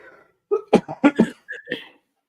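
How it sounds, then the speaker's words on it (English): A person coughs in a quick burst of several harsh, close coughs, followed by a brief throat-clearing sound. "My cough is just coming back to me."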